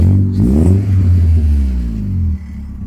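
A Classic Mini engine, running clean again after smoking, revs up close and loud from idle, pitch climbing then settling into a steady drone before dropping off near the end.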